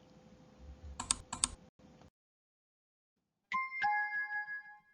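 Mouse clicks on a computer-based practice exam screen, a quick cluster of sharp clicks followed by a brief pause, then a bright electronic chime tone ringing out and fading, with no talking.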